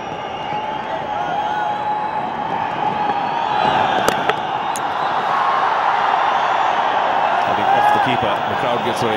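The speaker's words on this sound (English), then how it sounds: "got a huge ovation when he marked out his run-up" Dense crowd noise swells steadily at a cricket match between Karnataka Bulldozers and Bengal as spectators cheer a favourite bowler, a continuous roar with scattered claps and shouts under a commentator's voice.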